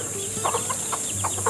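Chickens on a backyard farm clucking in short, soft bursts, several calls close together over steady background hiss, with no talking.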